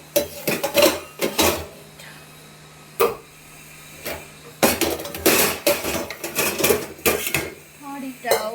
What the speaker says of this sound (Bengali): হাঁড়িটাও বের করে নিই।